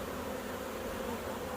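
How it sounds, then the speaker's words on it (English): A honeybee swarm on a farm, a steady low drone of many bees buzzing together, soft and continuous with no pauses. "I think swarms are just some of the coolest things ever."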